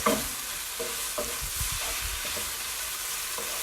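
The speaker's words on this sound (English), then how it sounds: "And you want to stir that in." Oxtail rasta pasta sauce sizzles steadily in a pot while a spoon stirs through it, scraping in short rhythmic strokes close by, with no voices.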